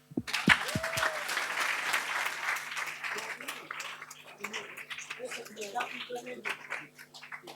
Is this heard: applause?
yes